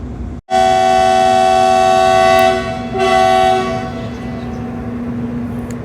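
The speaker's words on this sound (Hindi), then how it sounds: "हमें विसल और इंजन की साउंड पीछे से भी आने वाली है, क्योंकि अब हम चलेंगे डबल इंजन पे।" A train horn blares loud and sustained at a station in Assam, the New Haflong hill station, as a double-engine passenger train prepares to depart. The steady tone drops briefly, sounds again, then fades under the low rumble of the engines.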